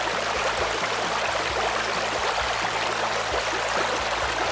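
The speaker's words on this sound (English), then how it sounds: "Wow, the stream. Can you hear it?" A small mountain creek in Colorado rushes steadily with a constant broadband hiss of flowing water, close and continuous, with no voices.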